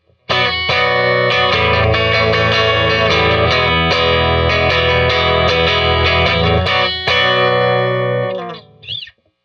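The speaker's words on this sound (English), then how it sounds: "let's go back to our bridge pickup, dig in a bit more with another chord oriented riff" An electric guitar plays a distorted, chord-based riff through a boutique Mustang bridge pickup. Thick sustained chords ring loud and full for several seconds, then the sound cuts off and a short ringing tail fades out.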